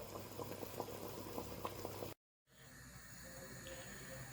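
Pasta in a pot of water on a gas stove, boiling with a steady close bubbling and hiss that breaks off briefly, then returns as a quieter, softer simmer.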